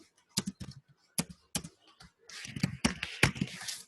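Keys clack on a computer keyboard during HTML form coding, sparse single taps at first, then a denser burst of quick typing toward the end, close and fairly quiet with no speech.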